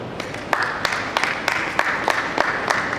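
Applause from a small audience after a teen debate speech, sparse individual claps in an uneven rhythm, fairly close and moderate in level, with no talking.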